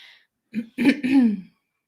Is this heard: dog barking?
no